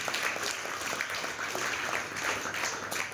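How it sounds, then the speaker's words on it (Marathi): An audience at a talk on board exam fear claps in a dense, steady burst of applause that fills the whole stretch at an even level, with no talking over it. "सो टाळ्या वाजवायच्यासाठी एकदा जोरदार."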